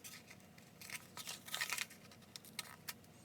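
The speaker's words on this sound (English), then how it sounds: "Using a pattern notcher, or you can use scissors, go ahead and mark your notches." Scissors or a pattern notcher snip notches into a sewing pattern for a jumpsuit, producing a few quick close crisp cuts and rustles of paper or fabric, with a busier burst midway and two isolated clicks near the end.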